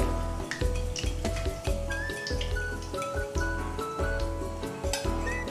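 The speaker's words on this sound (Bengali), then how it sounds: "একটু ধৈর্য সহকারে পকোড়াগুলো ফ্রাই করতে হবে।" Chicken lachha pakoras frying in hot oil, a steady sizzle with crackling drips and pops, interrupted by low repeated thumps and soft kitchen clatter.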